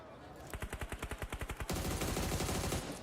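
Automatic gunfire in the PUBG Mobile video game during an esports grand final match, a rapid evenly spaced volley of about a dozen shots followed by a louder, denser stretch of continuous fire.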